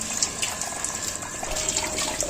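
Tap water runs steadily while goat tripe is washed, a close, continuous splashing rush with no voices over it.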